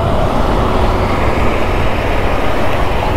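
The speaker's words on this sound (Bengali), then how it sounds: "বাস কি গতিতে যাইতেছে এক একটা।" Steady, loud roar of heavy road traffic with buses speeding past on a road in Bangladesh, a continuous broadband rush with no clear gaps.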